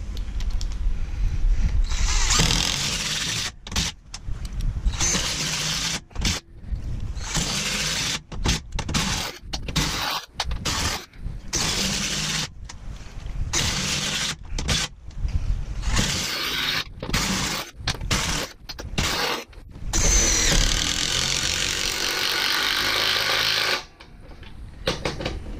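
A cordless power tool drills hole after hole in a torture test, loud bursts of whining, grinding drilling broken by short silent gaps, close and alone with no talk.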